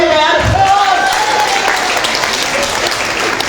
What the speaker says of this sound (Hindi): एक बार जोरदार ताली है यार